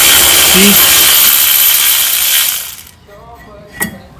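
Mechanical ratcheting and clicks from backing out a brake caliper bracket bolt on a Ford Explorer front brake, a loud steady grinding-like clatter for nearly three seconds, then quieter, with one sharp metallic tap near the end.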